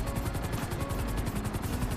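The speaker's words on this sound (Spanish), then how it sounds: "en velocidad es buen helicóptero" A helicopter in GTA Online on PS5 flies steadily, its rotor throbbing in a fast, even pulse with a continuous loud drone and no talk.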